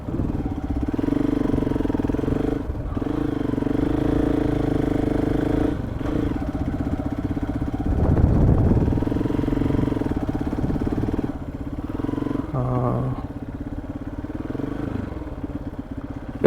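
A motorcycle rides through a village road near tiger forest country, its engine droning steadily and loud throughout, with brief shifts in pitch and revving, and no talk.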